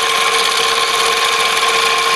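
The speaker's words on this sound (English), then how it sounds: "Straightforward drilling operation." A number 50 drill boring a tapping-size hole in a model steam engine part, a steady, loud, unbroken whine with a fixed high tone that holds through the whole stretch.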